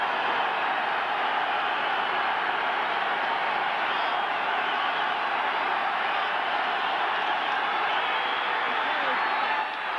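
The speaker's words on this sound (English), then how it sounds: "The crowd is on its feet." A 1986 Philadelphia football stadium crowd on its feet during a Cowboys–Eagles game, a steady, dense roar of cheering that holds loud and unbroken throughout.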